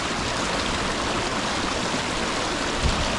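River water flows near an African village in a steady, dense broadband rush, close and continuous with no pauses and no voices over it.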